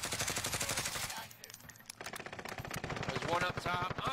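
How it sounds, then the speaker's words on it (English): Rapid bursts of automatic gunfire from an online shooter video game, shooting from atop a prison, crackle densely with a short lull in the middle, loud under a player's voice talking. "getting shot at from top of the prison"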